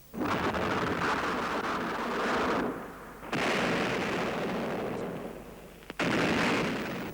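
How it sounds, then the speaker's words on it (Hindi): Heavy booming cannon blasts roll out one after another in a battle at a fort in Kanpur, loud and continuous, with sharp new blasts cutting in after brief lulls. "दोनों ओर से तोपें चलने लगीं।"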